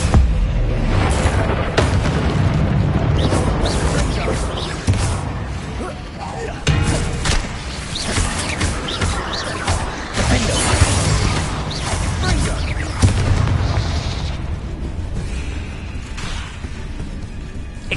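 Explosive spells, Confringo and Bombarda, are cast again and again in the Hogwarts Legacy video game, giving dense, continuous booms, thuds and whooshing blasts that stay loud throughout with no pauses.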